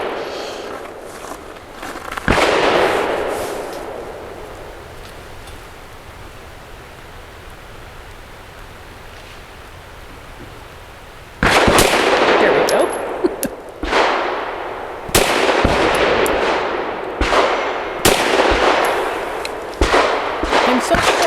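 Arex Delta X pistol firing Liberty Ammunition lead-free 65 grain trainer rounds at a shooting range: a single sharp shot early, then after a pause a rapid string of loud, close gunshots in irregular bursts.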